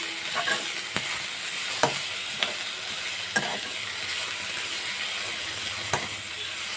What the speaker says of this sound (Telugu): ఇంకా వాటర్ అది ఏం పొయ్యకుండా చక్కగా దీన్ని ఇలా ఫ్రై చేసుకుంటే